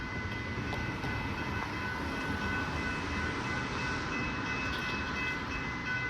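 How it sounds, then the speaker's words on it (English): A train rumbles past a level crossing on Victoria St, Brunswick, Victoria, steadily with a broad roar and a faint sustained electronic crossing bell tone, fairly distant, no voices. "Now we'll wait for the train like usual."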